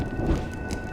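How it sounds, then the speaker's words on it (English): Steady rain pours in the video game Honkai Star Rail while a low rumble of thunder rolls beneath it, a dense, close wash of falling water over one continuous second. "When will this rain ever stop?"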